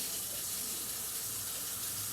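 Tap water runs steadily into a pot being filled for boiling in a home kitchen, a continuous, even gush of moderate loudness with no voices over it.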